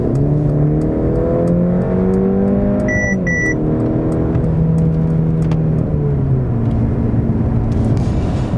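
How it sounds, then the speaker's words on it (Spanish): A Mercedes-Benz C-Class with a 1.5-litre four-cylinder engine accelerating from 60 on a road, a loud steady engine drone rising in pitch through the gears, with a brief gear-change dip and a couple of soft beeps. "para que veáis un poquito la aceleración que genera este coche"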